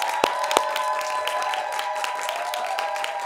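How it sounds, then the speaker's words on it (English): A studio audience at a TV news comedy show applauds as a guest is welcomed, steady crowd clapping with a couple of sharp close claps near the start and a sustained tonal music bed running underneath. "a round of applause"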